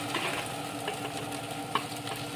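Potatoes, beans and carrots are stirred into leftover rice in a hot pan, giving a steady close sizzle with soft scraping stir sounds and one brief clink of the spoon.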